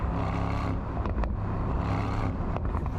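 A Mercedes-AMG SL, SL63 or SL55, in Sport Plus mode as the throttle is lifted: a loud, steady engine drone with low rumbling and a few brief crackling bursts, close and without talk.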